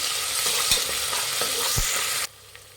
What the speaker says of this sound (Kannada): ಶುಂಠಿ ಬೆಳ್ಳುಳ್ಳಿ ಪೇಸ್ಟ್ ಹಸಿ ವಾಸನೆ ಹೋಗೋರು ಫ್ರೈ ಮಾಡಿ